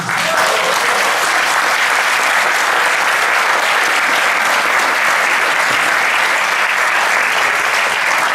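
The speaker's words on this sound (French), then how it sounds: "ça mérite quelques applaudissements" Loud, sustained applause from a crowd at the Melun Brie festival honoring a women's world champion cheesemaker, dense continuous clapping filling the whole stretch without pause.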